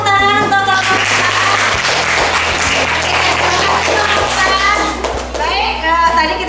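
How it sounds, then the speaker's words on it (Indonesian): Children in a classroom clapping for a teacher during a lesson, a loud burst of applause mixed with kids' voices and chatter, with hum in the background. "tepuk tangan untuk Bapak kita"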